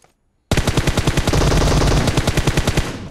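Automatic weapon fire from the PUBG Mobile video game starts suddenly after a brief silence and runs as a loud, rapid, evenly spaced burst of shots for about two and a half seconds.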